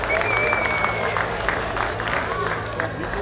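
At a gala convention dinner after a charity auction, the audience claps in a steady, continuous round of applause with crowd murmur underneath.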